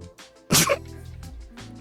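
A video game character in Rain Code gives one sharp, loud sneeze after a soft breath, followed by quieter murmured voice sounds.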